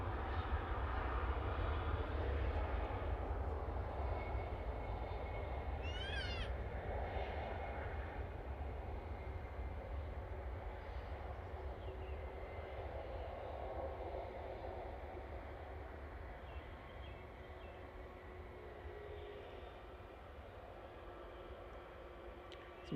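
A TUI airliner departs Manchester Airport, its engines a low, steady broadband roar heard from a distance that slowly fades over about twenty seconds, with no voices.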